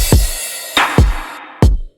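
Crash cymbal hits in a song mix, three sharp accented strikes each backed by a low drum thump, with bright washy decays that cut off quickly.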